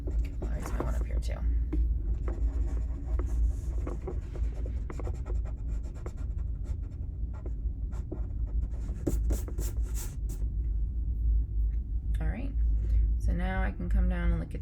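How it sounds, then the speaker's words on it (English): Pencil grid lines on a portrait drawing are erased with quick, close rubbing strokes that scratch in short bursts over steady room hum, with faint murmured talk. "I'll erase my one up here too."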